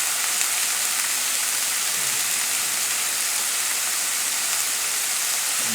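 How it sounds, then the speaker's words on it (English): Water from boiled sweet potatoes poured off in a kitchen, a steady broadband splashing rush at moderate level, continuous and alone without talk. "Pour off the water."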